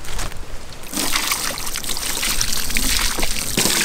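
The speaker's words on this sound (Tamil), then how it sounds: "தண்ணி நல்லா ஊத்துமா." Water poured over a giant stone fish being cleaned for grilling, a steady splashing trickle heard up close for a few seconds.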